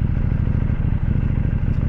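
A KTM Duke 790 A2 motorcycle accelerates with a loud, close, throbbing low engine pulse that holds steady over a couple of seconds.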